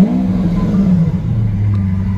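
A Lamborghini engine runs loudly with a steady, deep rumble that holds close and unbroken for the whole stretch, and no one speaks.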